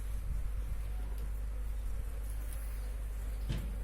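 Honeybees buzzing steadily around a packed hive, a dense continuous drone with no talking, close and even in level throughout.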